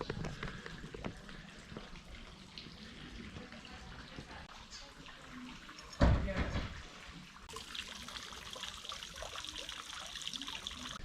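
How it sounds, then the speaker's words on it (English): Water runs and trickles in the background in the garden of the Ethnographic Museum in Plovdiv, a soft, continuous burble under a voice, with one brief louder splash or thump midway. "This place is so peaceful with the water running in the background."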